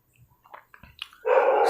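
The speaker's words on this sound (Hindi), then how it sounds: "कुत्ता भौंक रहा है इसलिए सॉरी चाहूँगा" A dog lets out a single loud, sustained bark at the end after scattered faint indoor noises.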